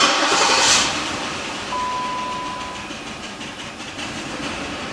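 A Jeep Liberty engine with one or two cylinders misfiring turns over and settles into a steady, rough idle, with broadband mechanical rumble running throughout and no voices.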